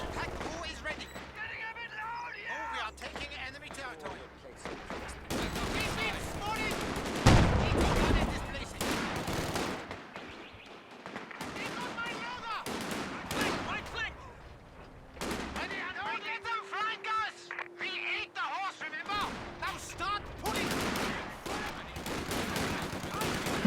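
Machine gun fire and artillery in Company of Heroes 2, bursts of gunfire and booming explosions from a battle, partly masked by voice lines and talk over the din.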